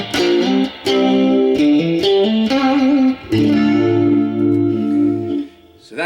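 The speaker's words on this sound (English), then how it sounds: "Or the middle now in humbucking with the bridge in single coil." A 1974 Gibson SG Custom electric guitar with Duncan pickups is played clean, with the middle pickup in humbucking and the bridge in single coil; picked single notes and ringing chords sustain loud and close, alone without talk.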